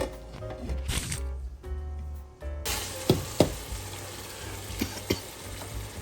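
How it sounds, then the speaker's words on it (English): Nigerian stew ingredients of pepper and onion sizzle and fry in a pan, with scraping stirs and several sharp knocks of the utensil against the pan, close and moderately loud. "So you will stir fry and let it reduce."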